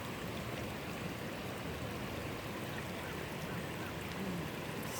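Bull Creek in Texas flows in an even, broadband rushing babble, close and constant for the whole stretch with no voices.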